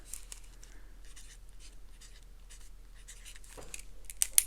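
Pen writing on paper, soft close scratching strokes in short irregular bursts, faint and alone, ending with a couple of light taps.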